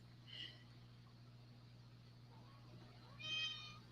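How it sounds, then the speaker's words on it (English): A pet cat named Lola gives two faint meows a few seconds apart in a quiet room with a low steady hum underneath. "That's my cat."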